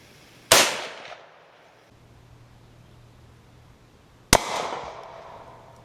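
Two AK-74 rifle shots in 5.45x39 fired at 25 yards into a steel East German M56/76 helmet: sharp, loud cracks about four seconds apart, each trailing off in a short echoing decay, with nothing else in between.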